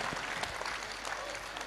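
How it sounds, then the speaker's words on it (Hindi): Audience at a Bageshwar Dham religious gathering breaks into dense, steady applause, a continuous loud wash of clapping from a large crowd with faint voices mixed in. "जोरदार ताली बजा करके आप सब धन्यवाद दो।"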